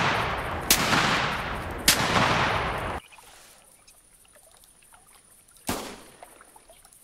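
Shotguns fire while duck hunting in the video game theHunter Classic, set in a bayou: three loud, sharp reports, the first two close together and the third after a pause, each with a long decaying tail.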